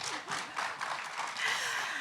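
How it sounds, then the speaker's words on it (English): Audience at a panel event on African creative industries applauding a speaker's introduction, a steady wash of clapping lasting the whole two seconds at moderate level, rising slightly toward the end. "You can clap."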